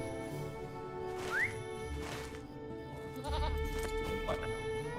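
A goat bleats in the Lord of the Rings Online game, repeated wavering calls over a steady musical game soundscape with faint whistle-like tones, no talking.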